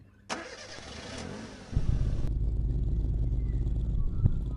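A video-game Porsche engine in Roblox cranks and catches, then settles into a steady low idle that rumbles on without voices, with a brief blip near the end.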